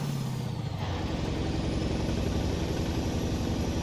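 A Mack B62 truck hauling a Fruehauf dry van with a Mack 15-speed Triplex transmission, in American Truck Simulator. A steady, loud diesel drone carries through a gear change, with a brief dip in pitch near the start.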